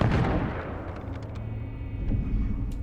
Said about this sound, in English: Try firing your pistol into random, like, people and things.